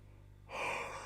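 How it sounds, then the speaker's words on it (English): A person yawning at night during an astronomy imaging session outdoors, a soft breathy exhale swelling suddenly after a quiet start, close and brief. "stop yawning"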